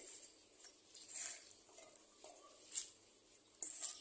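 Vegetables go into a pot of Thai mustard greens soup with fermented pork sausage, giving soft stirring and scraping in the pot with a few light metallic clinks, fairly faint and with no voices.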